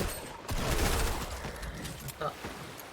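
Rapid bursts of submachine gun fire in the Fortnite video game, loud and continuous for a couple of seconds with dense crackling shots, while players talk over it.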